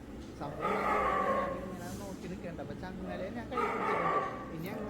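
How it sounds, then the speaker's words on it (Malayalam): A neighbouring house's dog barks in two short bursts, moderately close, with a quieter stretch between them over low background noise. "അടുത്ത വീട്ടിലെ പട്ടിയൊക്കെയാണ്"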